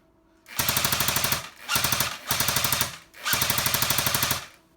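Four rapid bursts of automatic fire from an A&K airsoft M60 machine gun, each a fast rattling string of shots, loud and close with short pauses between.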